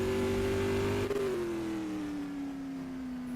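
The engine of Joe Oxett's Black Bandit, number 14, a race car pulling onto the track at a racetrack time trial, drones loudly and steadily, its pitch gradually falling as the car moves along.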